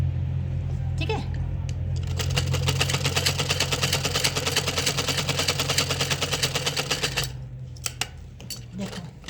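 Sewing machine stitching a pocket onto pajamas, a steady motor hum with fast rhythmic needle clatter running for about five seconds between quieter handling sounds.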